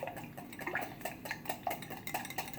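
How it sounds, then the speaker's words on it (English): A whisk beats homemade Belgian waffle batter in a bowl, quick rhythmic clinking and wet slapping strokes at a steady pace, close and moderately quiet with no speech. "I'm going to take this whisk, and I'm going to just mix this up"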